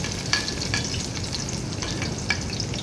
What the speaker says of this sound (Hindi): अब इसमें हम प्याज लाइट ब्राउन कर लेंगे।